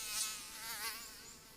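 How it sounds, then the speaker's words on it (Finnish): Mosquitoes whine close to the ear on a Finnish midsummer evening, a thin, steady high-pitched buzz that swells and fades slightly as they move around. "Illan varjot pitenevät ja hyttyset ovat heränneet."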